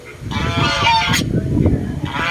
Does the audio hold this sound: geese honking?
yes